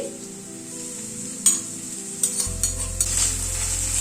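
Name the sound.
crushed ginger and garlic frying with onions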